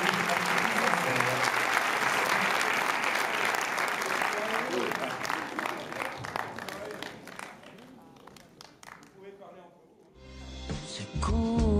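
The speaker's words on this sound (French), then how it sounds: "je vous applaudis très fort" Sustained audience applause at a Paris film premiere, dense clapping that fades over about ten seconds before a voice and music take over.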